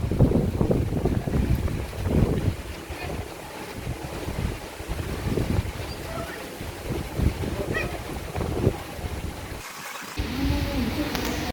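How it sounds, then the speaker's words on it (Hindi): Gusty wind on a balcony during rain buffets the microphone in a low, rushing roar that rises and falls, with a brief lull near the end. "अच्छा हवा चल रहा है"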